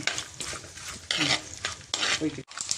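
Coconut pieces fry in a pan for a mushroom curry cooked in beef style, a close steady sizzle broken by repeated scraping strokes of a spoon stirring against the pan.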